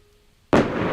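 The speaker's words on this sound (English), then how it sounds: "I mean, it is a firework, I guess." In a video game, a firework bursts with a sudden loud boom after near silence, and the bright crackling roar lingers and fades slowly.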